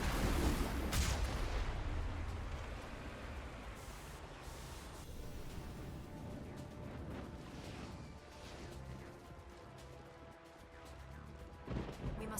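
Enemy artillery firing in Mass Effect, opening with a loud heavy blast that fades into a long rumbling wash of noise, then a few softer thuds and a late impact.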